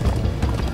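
Hooves clip-clopping at a gallop in the video game Minecraft Story Mode, a brief, loud burst of quick rhythmic thuds.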